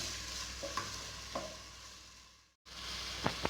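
Chopped onions frying in a pan for Telugu-style chicken curry, a steady hiss with a few soft stirring clinks, briefly cutting out near the end before the sizzle resumes with sharper scrapes.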